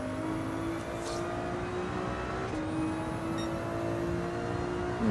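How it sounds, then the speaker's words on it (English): A race car in the Le Mans Ultimate video game at Spa runs steadily on engine drone, with brief whines and faint tire noise as it brakes and slides, with no talking. "Oh, this car slides so much in that braking zone."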